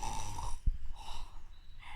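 A voice imitates the Gruffalo snoring, giving slow rumbling drawn-out snores with a breathy snort between them, close and moderately loud.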